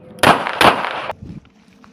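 A CZ 75 Compact 9mm pistol fires two sharp shots about a third of a second apart at a shooting practice session, loud and close, each followed by a brief decaying echo.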